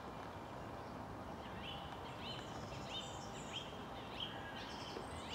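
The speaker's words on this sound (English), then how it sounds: "Some very pleasant thrush song in the background" Thrush singing in the background near a golf course: faint, distant repeated song phrases with short pauses between them, over soft low outdoor ambience, with no voices.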